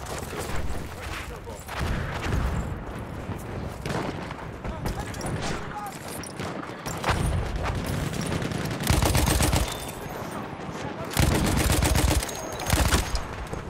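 Gunfire rattles through a Battlefield 1 video game match, with dense bursts of shots, heavy booms and loud blasts throughout, while players talk over the action.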